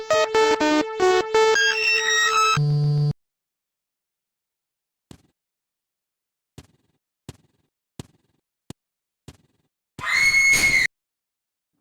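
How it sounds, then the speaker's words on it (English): Cheesy woman scream sound effect from the MS-DOS horror game Toymaker: a single loud, shrill scream lasting under a second near the end, after a short burst of game music and a few sparse clicks in otherwise near silence. "the cheesy woman scream sound effect"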